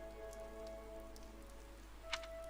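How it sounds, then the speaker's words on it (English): Heavy rain falls in the video game Fire Emblem Three Houses, a faint, steady hiss over a low constant hum and a sustained tone, with one brief brighter spatter near the end. "The rain is really coming down now."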